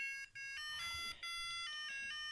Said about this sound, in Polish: I to nie jest taki zwykły budzik, można ustawić sobie dźwięk